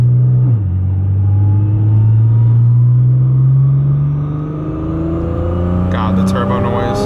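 Ram TRX pickup truck with audible turbo noise: a loud, steady engine drone that rises slowly in pitch as it pulls, with a brief high whine and whoosh near the end.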